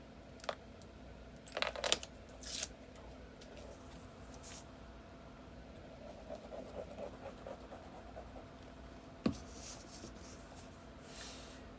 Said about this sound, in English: Fold this over, making sure it's lined up with the edges, and burnish it down.